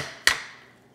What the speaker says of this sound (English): Take your hammer and very gently tap it in just like that.